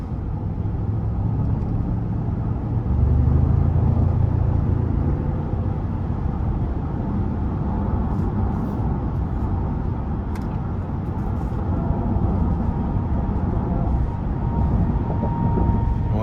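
A 2023 Cadillac Escalade ESV with the 6.2 V8, driven in sport mode, gives a steady deep cabin rumble that swells briefly early on and then stays even.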